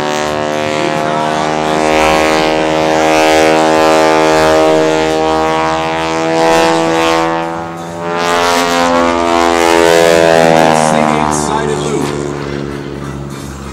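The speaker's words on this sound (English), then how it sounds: "Watch now as Kirk takes the aircraft up across the top." An aerobatic propeller aircraft performs at the 2012 Tuscaloosa Regional Air Show, its loud droning engine tone rising and falling in pitch as it climbs and passes, with wind noise throughout.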